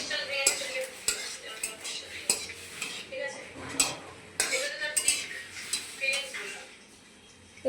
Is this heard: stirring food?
yes